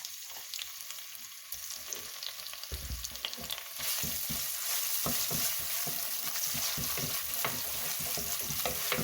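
Garlic and ginger hit hot oil in a pan for mutton soup, starting with a quiet sizzle and then surging into loud, steady frying, broken by scraping stir strokes and clattering utensil hits.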